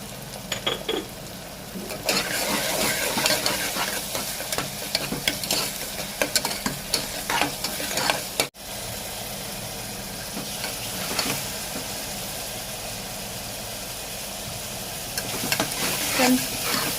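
Tomatoes sautéing in a pan with salt for a soya chunk gravy, a continuous sizzle over repeated spatula scraping and stirring, a brief cut midway, then steady frying.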